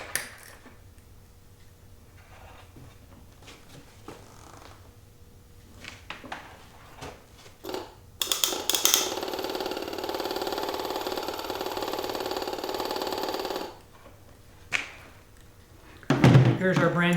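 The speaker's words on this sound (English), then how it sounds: "Here's another solenoid pump, different brand" An electric solenoid fuel pump of another brand runs with a rapid, buzzing tick that starts abruptly, holds steady for several seconds at close range, then cuts off, with faint knocks and handling noise before and after.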